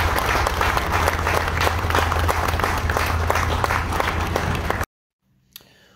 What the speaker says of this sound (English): ladies and gentlemen, a big round of applause, please, for Russel Carr and Matt Windle